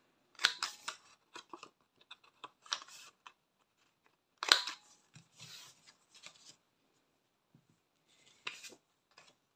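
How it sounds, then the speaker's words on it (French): Paper for the front of a Christmas gift cheque holder with bookmark has its corners rounded. Several crisp, close snipping bursts come in short clusters, separated by quiet gaps. "Je vais venir bien sûr arrondir mes angles à la même taille."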